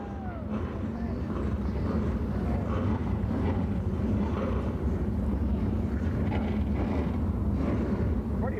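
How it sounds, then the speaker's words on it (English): SK Modified race cars fire up together at the North South Shootout, a dense, continuous low engine rumble from a large field of cars with a steady, unbroken roar and no clear talk. "Drivers, start your engines!"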